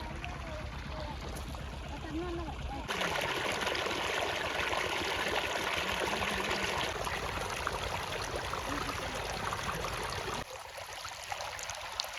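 Water gushes from a pump motor into furrowed farm field channels in rural Gujarat, a steady close rushing flow that swells louder after a few seconds and drops off sharply near the end.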